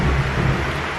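Low thunder rolls during a storm, a deep, continuous rumble filling the brief moment with a faint hiss of rain above it.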